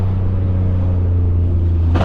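Straight-piped 650HP BMW F80 M3 drones loud and steady from inside the cabin, a deep constant exhaust hum with strong low harmonics and no talking.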